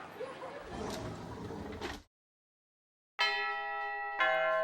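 A school bell in the video game Root Double rings twice in bright, sustained metallic chimes, each tone clear and resonant, following a stretch of muffled chatter and laughter that drops into silence.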